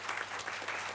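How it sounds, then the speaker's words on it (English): Audience applause for panelists at a discussion on early childhood care and education, a dense, steady round of clapping from a crowd at moderate volume. "a big round of applause to both the"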